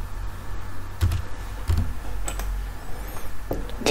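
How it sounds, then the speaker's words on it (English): Computer keyboard keys tapped at a desk while modeling in FreeCAD, a few sparse, separate clicks spread over a few seconds against a quiet background hum. "let's type 50 millimeter."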